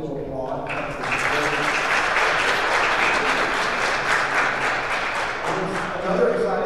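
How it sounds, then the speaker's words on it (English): Church congregation breaks into warm, sustained applause that swells quickly after a short pause and holds steady as many hands clap together, fairly full and even in level throughout. "He's not here today, but we should still applaud."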